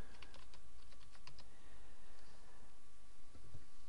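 Rapid clicking keystrokes on a computer keyboard as a password is entered, a quick burst of close, crisp taps early on followed by sparser, softer key presses over a constant background hum.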